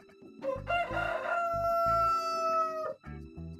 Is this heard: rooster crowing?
yes